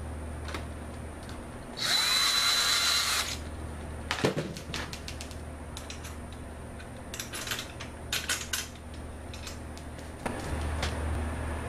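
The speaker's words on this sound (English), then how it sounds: "Drill the other side." A power drill whines in a short burst drilling a metal tube, followed by scattered metallic clicks and clatter, then another brief motor hum near the end.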